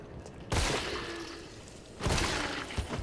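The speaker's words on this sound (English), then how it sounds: "Double head explosion." Two booming explosions from the video game Resident Evil 3 burst out about a second and a half apart, each a loud, sharp blast trailing into a rumbling decay.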